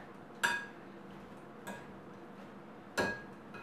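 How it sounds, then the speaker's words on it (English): Metal tongs stir a raw kale salad in a bowl, giving three separate clinks and scrapes spaced over a few seconds against a quiet background. "So now you take your tongs, give your salad a little stir"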